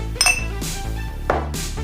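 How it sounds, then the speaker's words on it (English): A muddler pressing lime wedges with brown sugar in a glass, giving a few distinct clinks and dull knocks against the glass spaced over a short stretch, with no speech. "with the help of muddler, then start to molding gently to extract the lime juice"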